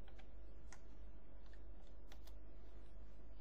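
Typing a web address on a computer keyboard, a quiet run of soft, irregular key clicks over a steady low hum, with no voices.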